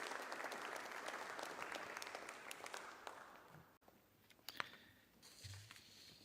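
Crowd applause as Pope Francis enters a pavilion in Venice, a dense, distant patter of many hands clapping that thins out toward the end, with faint voices underneath.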